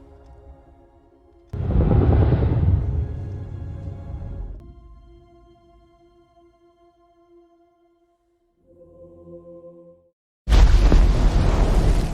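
A huge underwater blast from Godzilla: King of the Monsters, its shock wave pushing a submarine to the surface, heard as a loud, broad roaring burst swelling and fading over seconds, then quieter tonal hums and a second sudden loud surge at the end.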